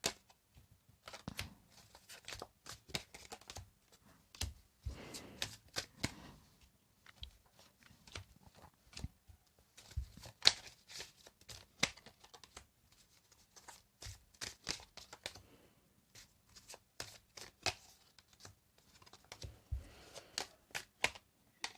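Tarot cards shuffled by hand, close up: irregular bursts of crisp riffling and slapping, with short pauses between rounds and no voices.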